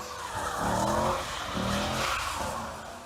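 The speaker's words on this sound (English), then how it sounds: "and then we just do donuts" A car spins donuts at a street racing meet, its tires skidding and squealing in long, wavering bursts over a revving engine, loud and close throughout.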